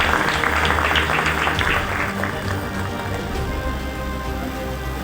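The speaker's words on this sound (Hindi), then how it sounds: "तालियों में कंजूसी नहीं होनी चाहिए" Crowd applause at a Maha Khumli gathering organised by a Hati committee in Rajgarh, a dense clatter of clapping that starts strong and slowly thins out.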